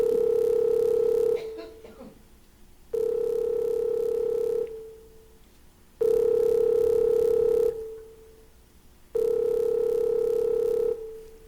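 A telephone rings out on the line in a radio drama, giving four long, even ring tones separated by pauses, with brief muffled voice between the first two.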